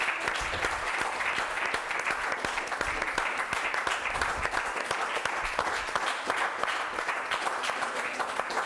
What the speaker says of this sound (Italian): Fortissimi negli applausi